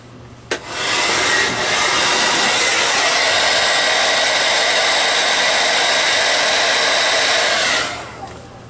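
Airbrush spraying acrylic hobby paint in a steady, loud hiss of rushing air that holds for about seven seconds after a brief click, then cuts off.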